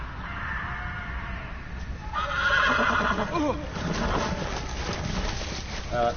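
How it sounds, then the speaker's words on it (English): A horse neighs and whinnies in the Game of Thrones video game, a drawn-out cry rising over a busy game soundscape with faint bird calls and hoofbeats, partly under a voice. "Horse! Horse!"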